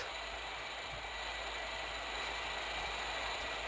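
Jet engines of a Boeing 737 MAX in a flight simulator game, a steady, even whine and roar holding at constant loudness throughout, with no talking.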